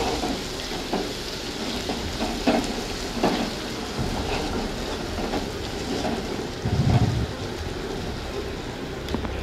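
Spice paste with salt and turmeric sizzles in a pan for flat bean bharta, a steady frying hiss with a few louder scrape-like bursts, close and fairly loud with no talking.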